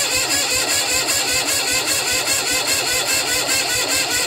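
A Bolens tractor engine running after a cold start, choke in use, with a rapid even chugging beat close by and no talk.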